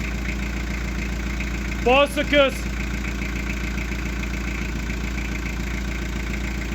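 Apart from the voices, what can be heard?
old diesel engine running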